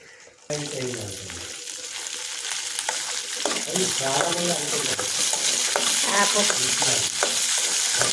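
Chilies fry in hot oil in a pan for gongura chutney, a spattering sizzle that starts suddenly and builds steadily, with stirring scrapes and clinks close by.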